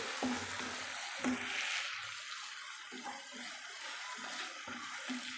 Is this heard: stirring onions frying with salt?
yes